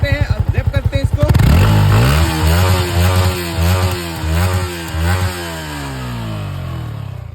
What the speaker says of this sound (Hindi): सबसे पहले करते हैं R15 को स्टार्ट। और ये सुनो इसका एग्जॉस्ट साउंड।